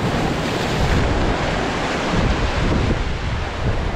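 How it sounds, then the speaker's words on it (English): Ocean surf breaks steadily on the shore at Ponce Inlet, a dense continuous wash of waves close by with heavy wind buffeting the microphone throughout. "A wave is coming."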